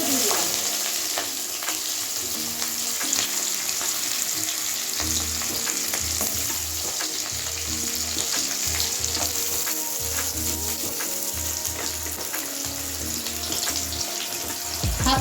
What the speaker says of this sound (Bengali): আলুটা একটু হালকা ভেজে নেব।